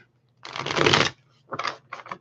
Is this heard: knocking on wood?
no